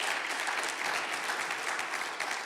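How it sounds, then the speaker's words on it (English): A steady, dense round of applause from an audience at a live event fills the whole stretch, even in texture with no voices standing out. "how about a big round of applause for Mr. Jay Messamore and Wells Fargo"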